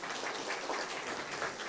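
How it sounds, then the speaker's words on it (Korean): Applause from a church congregation in encouragement of a child, steady dense clapping filling the whole moment at moderate loudness with no voices. "격려의 박수."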